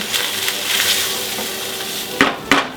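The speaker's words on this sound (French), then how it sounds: "je vais déglacer avec 1 demi-litre de bouillon" Chicken broth poured into a hot pan of sweated onions for a cassoulet, a steady broad sizzle and hiss with a spatula scraping and two sharp clacks near the end.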